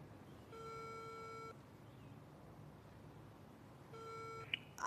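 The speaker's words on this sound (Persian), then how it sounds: "به همون مشگان زنگ بزنیم بابا" Phone ringback tone in a Persian TV film: two bursts of steady electronic ringing, each about a second long, with a pause between them. No voices, faint background.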